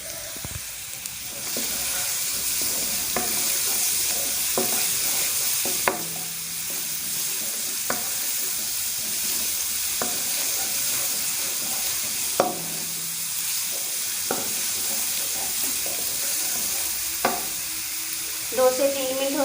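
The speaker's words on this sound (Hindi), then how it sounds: "अब इसके अंदर अदरक और लहसुन का पेस्ट ऐड करते हैं।" Ginger-garlic paste frying in hot oil in a kadhai for a chicken biryani, a steady loud sizzle broken by periodic spoon scrapes and stirring clatter, close up and with no talk.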